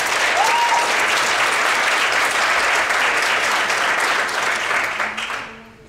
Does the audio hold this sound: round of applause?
yes